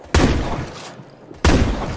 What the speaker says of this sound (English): starting with the Model 870, which is the basic pump-action shotgun.